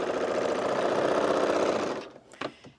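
A sewing machine trimming off a fabric edge while stitching a dress seam runs loud and close in a steady, rapid whir for about two seconds, then stops, leaving a few faint clicks.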